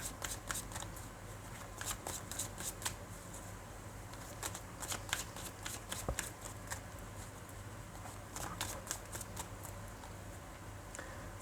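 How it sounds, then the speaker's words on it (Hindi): Tarot cards are shuffled in a final round, a run of crisp riffling and flicking bursts repeating in quick irregular clusters, close and quiet with no voices over them. "final shuffle"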